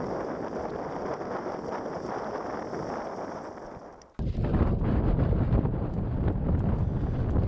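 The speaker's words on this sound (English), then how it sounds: "Look at this gust of wind. It's a good 15 knots." Strong wind buffets a sailboat's microphone in about 15-knot gusts, a steady roar that dips briefly, then surges back louder and rougher, close and constant with no talking.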